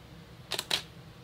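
A camera set to program mode fires its shutter in a quick double click, crisp and close in a quiet room.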